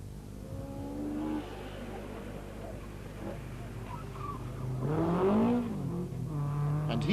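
A Vauxhall Chevette rally car on the 1981 Circuit of Ireland Rally drives past, its engine rising and revving as it nears, with commentary over it.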